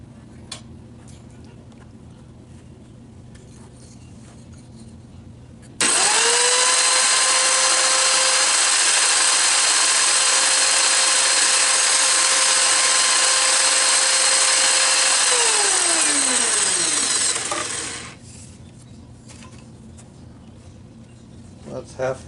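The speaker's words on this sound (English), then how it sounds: "So let's make some cuts and I'll show you how it works." A small homemade modeling table saw with a steel top plate starts up and runs loud and steady for about twelve seconds while cutting thin plywood or 1/2-inch stock, then winds down and stops.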